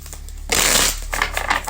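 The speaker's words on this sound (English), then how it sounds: "One more shuffle, please." Tarot cards being shuffled, a short close burst of riffling and papery rustle lasting about a second, then a softer second flurry.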